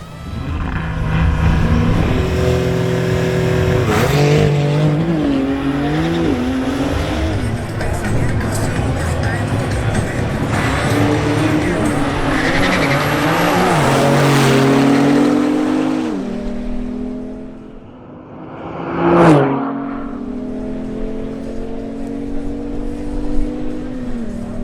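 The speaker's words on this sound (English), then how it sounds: "We begin with a duel between Ronald Chavez in his Audi RS Q3 versus Juan Carlos Garcia in his Porsche 911 Turbo S" An Audi RS Q3 and a Porsche 911 Turbo S launch in a drag race, their engines revving hard and climbing through repeated gear shifts in loud rising sweeps, ending with a sharp rev burst before settling to a steady drone.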